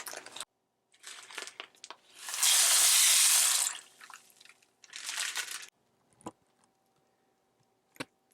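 Tap water running over dried peas during rinsing, with a couple of brief splashy bursts, one strong gush in the middle, and scattered small clicks and rattles, close and fairly quiet.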